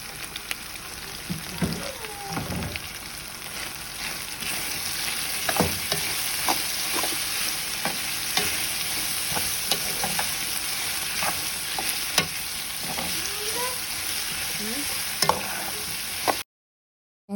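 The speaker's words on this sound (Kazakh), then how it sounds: "Кабачогымызды қуырып алатын боламыз." Zucchini fries and sizzles in a pan while being stirred, a continuous close crackle with scattered pops and scraping stir strokes across the whole stretch, ending abruptly.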